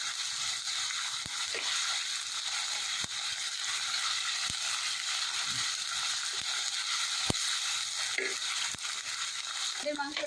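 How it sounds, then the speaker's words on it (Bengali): Chicken coated in garlic, ginger and cumin paste fries in a pan, a continuous bright sizzle with occasional sharp clicks of a utensil stirring, close and steady. "এখন এটা আমি হালকা ভেজে নেব।"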